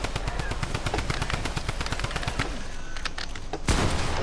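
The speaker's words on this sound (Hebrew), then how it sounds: "יריות, יריות." Rapid machine-gun fire rattles in a video game, a dense steady stream of loud shots followed by a heavier blast near the end.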